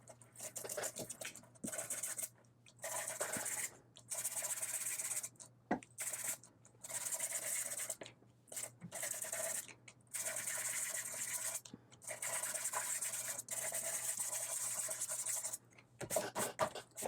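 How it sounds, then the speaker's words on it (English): Sandpaper disc rubbed across the paper edges of a handmade Christmas card, sustained close scratchy grinding in bursts of one to two seconds separated by short pauses, loud and steady. "I'm going to go ahead and do a little distressing. This is a sandpaper disc."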